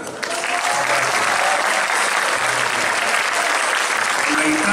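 Applause for the bassist Marco at a posthumous tribute show: a thick, steady burst of clapping from the crowd begins almost at once and holds strongly throughout, close and full, with faint background murmur.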